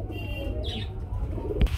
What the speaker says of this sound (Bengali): কবুতর আছে বন্ধুরা অনেক